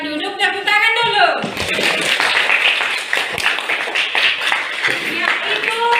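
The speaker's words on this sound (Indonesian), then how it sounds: "Silakan duduk, tepuk tangan dulu." A classroom of students bursts into clapping after a short-story writing lesson, lively and dense applause that starts after a brief spoken word and carries on steadily, with a few chuckles mixed in.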